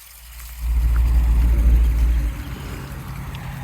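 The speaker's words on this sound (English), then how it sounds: "now let me show you this pump that is submersible pump is pumping it all the way out" A submersible pump moves water out of a farm koi pond during cleaning, giving a loud, steady low motor hum that swells for a couple of seconds and then settles into a quieter continuous drone.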